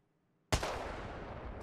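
A single Kraber sniper rifle shot in Apex Legends cracks loud and close, after near silence, with a long booming tail that rolls off over a second.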